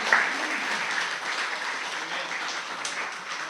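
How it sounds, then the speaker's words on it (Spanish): Church congregation clapping during a sermon, a sustained even patter of many hands heard at moderate distance, steady throughout with no talk over it. "Pueden aplaudir por eso."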